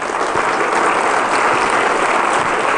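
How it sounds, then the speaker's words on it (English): A large conference crowd at a hacker convention bursts into sustained, loud applause for a presenter, a thick, even roar of many hands clapping throughout. "round of applause to Relic"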